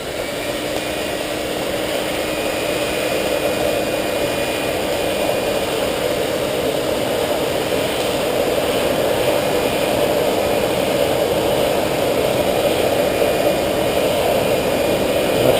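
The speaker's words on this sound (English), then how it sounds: "Turn on the blower." A forge blower runs while a knife heats in the forge, giving a steady loud whooshing fan roar with a faint high whine, holding constant and swelling slightly toward the end.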